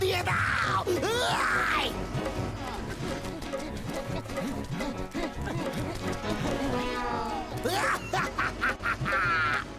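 A cartoon duck lets out nasal quacks at the start and again near the end, set amid animated character voices and busy soundtrack noise.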